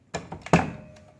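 The door of an Electrolux EWF1074 front-load washing machine with a faulty door lock is shut, giving a couple of light taps followed by one solid, close thunk that fades quickly.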